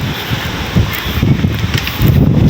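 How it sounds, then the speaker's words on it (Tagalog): Strong stormy wind at a beach resort, steady roaring gusts with microphone buffeting and rustling, loud and continuous with no one speaking. "napakalakas ng hangin"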